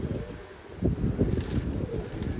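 Strong storm wind buffets outdoors, roaring and gusting steadily with low rumbling bursts of wind noise on the microphone.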